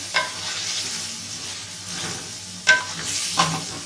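Round tinda gourd stir-fried in a pan with a soft continuous sizzle, broken by a few sharp scrapes and clanks of the spoon against the pan.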